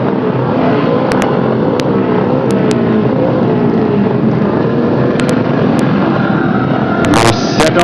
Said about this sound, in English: Engines revving.